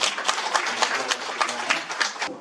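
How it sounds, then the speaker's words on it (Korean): Audience applause for a lecturer at a tourism association year-end gathering in a hotel, a steady patter of clapping hands filling the room over a low murmur of voices. "김관현 교수님께 다시 한번 박수를 한번 보내주시죠."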